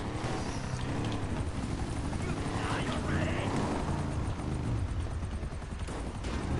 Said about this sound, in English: Oh, sounds like your helicopter's dying,